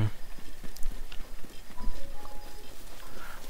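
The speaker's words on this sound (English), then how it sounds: "Horses. In the wild." Horses in the wild in The Legend of Zelda: Breath of the Wild, their hooves giving soft, irregular clip-clop thuds at a moderate distance against quiet game ambience.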